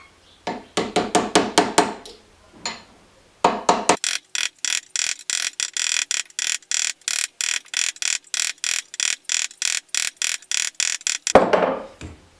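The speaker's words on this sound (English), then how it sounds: "I'm just evenly tapping it round." Hammer tapping a propshaft centre bearing into place on a Ford Transit van: a long, steady run of close, crisp metallic taps in an even rhythm, with a brief pause early on and no talking.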